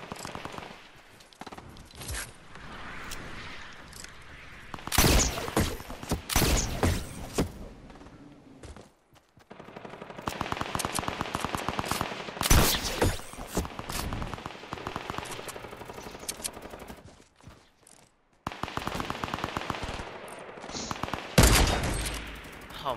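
Rapid bursts of shotgun and automatic gunfire in a Fortnite-style shooter, loud volleys starting and stopping across the clip with short quieter gaps between exchanges.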